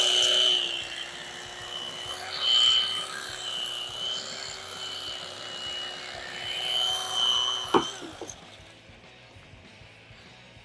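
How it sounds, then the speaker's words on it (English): An electric turkey carver trims excess upholstery foam on a tuck and roll seat for a Model A coupe, giving a steady buzzing whine that runs close and loud for about eight seconds, then stops with a brief clatter. "So let's take our turkey carver again, and we'll just trim this excess off here."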